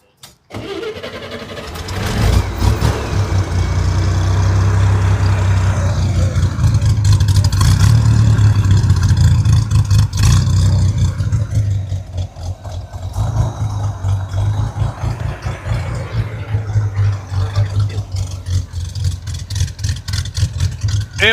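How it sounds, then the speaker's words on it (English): A classic American car engine cranks and catches after a brief starter whir, then settles into a loud, steady rumbling run close by, with rhythmic lopey pulses and occasional blips of revving throughout. "And can we hear it run? Can you start it up?"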